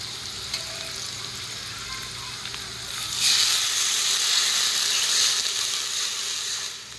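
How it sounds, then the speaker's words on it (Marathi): Churned buttermilk poured into a hot kadhi pan, a sudden loud broad sizzle that swells and holds, close by, then slowly eases. "आता आपण ताक घुसळलेलं ओतून घेऊया कढीला"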